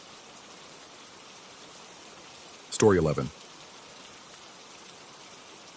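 Steady rain falls throughout behind a spoken horror story, a soft even hiss that stays under a brief burst of narration in the middle.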